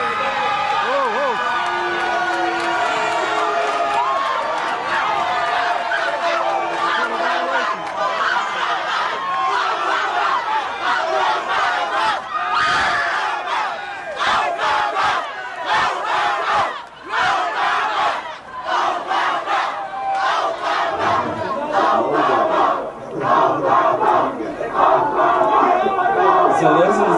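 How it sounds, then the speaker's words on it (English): A loud, agitated crowd shouts, cheers and yells throughout while someone is tasered, with voices overlapping in a dense, chaotic roar and sharper outbursts near the end. "everybody's going to stand behind cheering as they taser you, and you're screaming, "Don't taser me, bro!""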